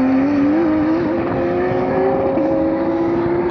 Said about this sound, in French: Petite Porsche au calme au circuit du Castellet.